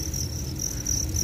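A steady, rapid pulsing trill comes from farmed breeding crickets laying eggs, sounding close and unbroken throughout.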